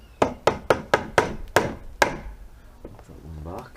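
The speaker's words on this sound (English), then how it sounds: "It's moved, so we take the trusty hammer," A steel claw hammer, not a rubber mallet, strikes wooden decking boards for a window box: seven sharp, evenly spaced blows close up, followed by quieter handling noise.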